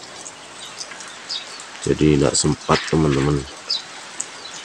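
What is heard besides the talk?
morning rain in a village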